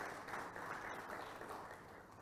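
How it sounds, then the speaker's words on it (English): Audience applause for an agricultural official at an inauguration and planning meeting, a steady wash of many hands clapping throughout, slowly easing off toward the end, with no voices over it. "a round of applause to Patrick"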